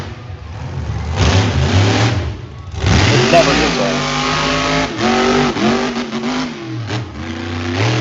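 A monster truck engine revs loudly and repeatedly in a rising and falling roar at an arena show in Evansville, with a commentator talking over it.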